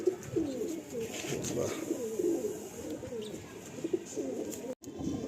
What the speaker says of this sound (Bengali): অরিজিনাল স্টার পায়রা এটা